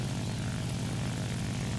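Propeller engine of the XP-55, a pusher fighter plane in the War Thunder combat flight game, drones steadily with a loud, constant buzzing roar that holds throughout, with no talk.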